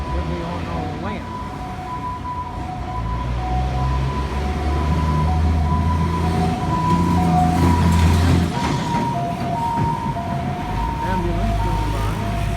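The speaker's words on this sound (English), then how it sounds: "Ambulance going by." A passing ambulance with a wavering siren and engine rumble swelling then fading, amid steady street traffic noise near Tatung University in Taipei and some talking.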